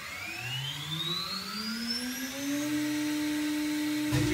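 A CNC router spindle on a Multicam MG Series 5'x10' table ramps up to 18,000 rpm, its steady whine climbing smoothly in pitch before settling into a constant high tone over a background hum.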